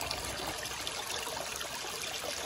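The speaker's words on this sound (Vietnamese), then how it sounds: "có con suối nhỏ ở dưới này nè, nước nó chảy rất là đẹp nha" A small, shallow stream running low over many rocks in the dry season trickles and babbles softly and continuously, faint and steady, with no voices.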